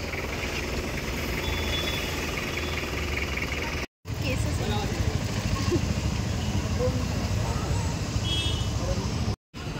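A motorcycle being ridden with two people aboard gives a steady engine drone and wind rush, with a voice speaking over it and two brief dropouts.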